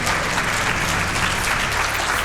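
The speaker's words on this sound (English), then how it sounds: "That was so sick, crowd. Give it up one more time." Sustained applause from a live audience at Awesome Games Done Quick after a DOOM Eternal speedrun, a dense, even wash of clapping filling the whole moment without a break.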